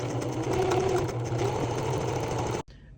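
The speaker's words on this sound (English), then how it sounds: "we have finished sewing the drawstring bag" A sewing machine runs steadily, stitching around a fabric drawstring bag with a continuous whirring hum for about two and a half seconds before stopping abruptly.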